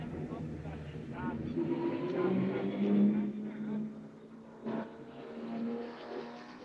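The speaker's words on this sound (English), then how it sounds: "in the damp conditions, the cars make their way out onto the circuit in the Sport Challenge category" Porsche Carrera Cup race cars heading out onto a damp Interlagos circuit for qualifying, engines droning and revving at moderate distance, rising and falling under continuous commentary.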